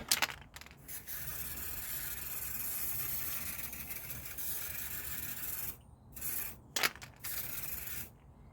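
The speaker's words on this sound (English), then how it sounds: "Give it a good spray up." Long hissing bursts of an aerosol can spraying up close while cleaning rear brakes on a Chrysler 300C, with brief pauses and a few clicks between sprays.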